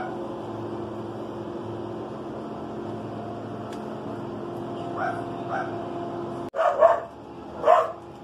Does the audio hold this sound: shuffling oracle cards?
no